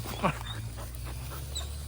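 A farm dog whimpers with one sharp high yelp near the start, then soft panting and faint whines over a steady low hum, while a person talks nearby.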